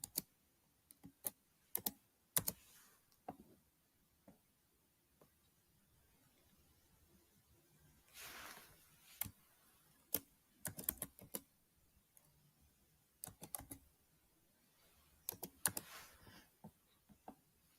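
Codes are typed on a computer keyboard during an online trademark registration in Pakistan, with quiet, close key clicks that come in short bursts and scattered single taps, separated by pauses.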